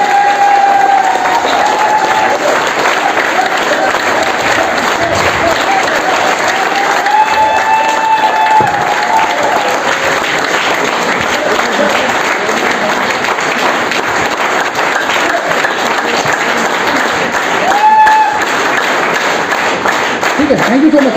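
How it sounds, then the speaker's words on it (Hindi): An audience at a stage event applauds a guest speaker being introduced, sustained loud clapping from a large crowd lasting throughout, with a voice heard over it. "हाथ ऊपर करके दिल खोल के तालियां बजाइए।"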